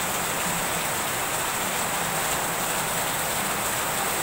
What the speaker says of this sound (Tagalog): Ulan, ulan. Ang lakas, grabe.